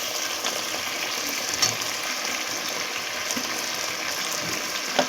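Pre-fried potatoes added piece by piece to hot oil while cooking hotel-style chicken biryani, a steady close sizzle and crackle with occasional soft clinks.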